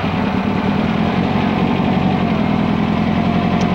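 A small 2-liter engine with stock transmission, in a vehicle fitted with Empi disc brakes, idles steadily near a ravine, a loud, close, even rumble with a faint knocking texture throughout.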